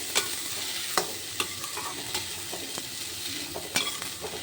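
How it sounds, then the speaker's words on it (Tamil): Masala sundal being mixed with grated carrot in a pan: steady soft frying hiss with a few light scraping stirs of a spoon, close by, no voices. "சுண்டல் கேரட்டையும் இதில் மிக்ஸ் பண்ணிக்குவோம்"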